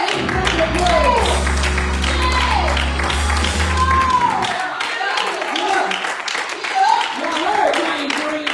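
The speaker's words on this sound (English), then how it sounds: "give God a hand clap of praise" A church congregation claps hands in praise, many hands striking in a dense, lively patter that carries through the whole stretch, with a sustained organ-like tone early on and voices calling out over the clapping.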